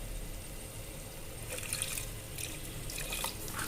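Water poured into a pan of stuffed eggplant masala, a steady running trickle with splashy bursts as it fills and mixes, no talking.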